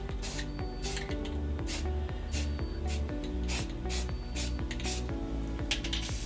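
An aerosol can of spray paint hisses steadily while coating rock castings, with short bursts of spraying repeating in a pulsing rhythm up close, alongside faint rattles and a background hum.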